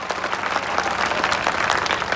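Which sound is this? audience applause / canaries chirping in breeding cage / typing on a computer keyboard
audience applause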